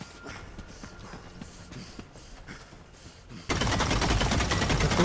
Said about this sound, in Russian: Тут пулемет какой-то херачит, короче.